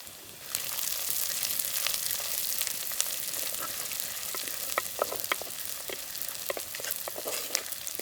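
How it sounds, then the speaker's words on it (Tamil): Sliced shallots, curry leaves and dried red chilies sauté in a village clay pot, a steady close sizzle with scattered sharp crackles and pops throughout, no voices. "இந்த வெங்காயம் வரமிளகாய் இதெல்லாமே பார்த்திங்கன்னா லைட்டாக வதங்கினா போதும்"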